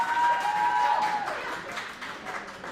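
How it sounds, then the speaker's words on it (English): An audience claps for a girls lacrosse coach and player, a moderate wash of applause that is strongest at first and then thins and fades, with faint voices beneath. "Please give them a round of applause and show Coach and Marissa some love here."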